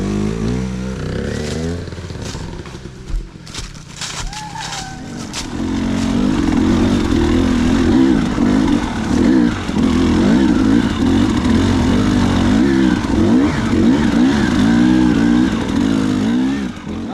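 A dirt bike engine at a motor sports park revs hard on the gas while climbing a hill, a steady loud roar after a few seconds of rougher, uneven idling and clatter.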